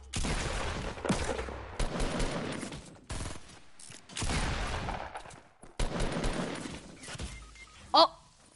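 Gunfire in the Fortnite video game: bursts of loud, rapid shots repeating through most of the stretch with short gaps between volleys, and a sharp ringing hit near the end.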